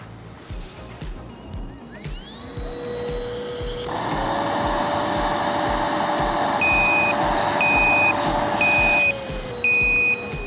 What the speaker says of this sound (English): The vacuum cleaner has an airflow monitor that beeps immediately when the airflow is no longer ideal